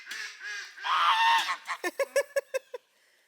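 Geese honk at a pool edge, first in a longer harsh blaring call, then in a quick run of about eight short, evenly spaced honks that stop abruptly, fairly close and clear.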